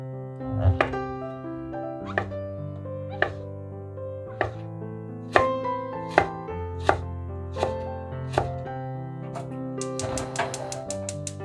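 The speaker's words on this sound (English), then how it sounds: "Cut off the thick part of the cabbage and boil it together with the cabbage." A knife chops through cabbage on a cutting board in a series of sharp, separate thuds, about a dozen strokes at an uneven pace, close by.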